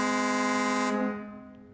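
Tatra truck horn in the video game SnowRunner: a single loud, sustained, rich-toned blast that cuts off and leaves a short fading tail.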